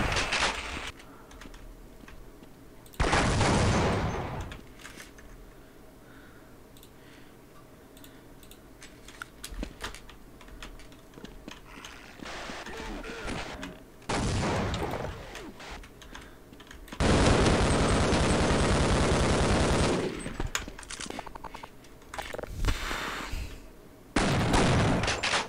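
Shotgun blasts in the Half-Life video game, heard as several loud, broad bursts of a second or two each, spaced irregularly over steady game background noise.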